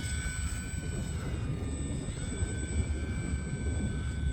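An E-flite UMX Turbo Timber Evolution RC plane flying outdoors, its small electric motor giving a steady high whine over continuous wind rumble, with no talking.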